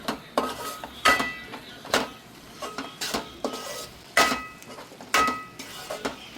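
Masala curry being stirred in a metal pot, with repeated sharp scrapes and clinks of a spoon against the pot in an irregular rhythm, close and fairly loud, no talking.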